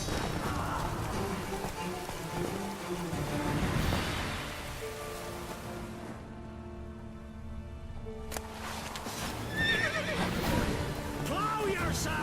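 A horse neighing in the video game The Witcher 3: a loud, drawn-out whinny over a steady rain-like hiss and background game noise, followed by a quieter stretch and more ambient rustling.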